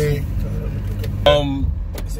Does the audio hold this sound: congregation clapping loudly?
no